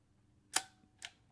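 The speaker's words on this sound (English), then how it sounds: "Nice, fairly quiet leaf shutter action." Leaf shutter of a Voigtlander Bessa II 6x9 folding camera firing: a short, soft metallic click, then a second lighter click about half a second later, quiet and close in a still room.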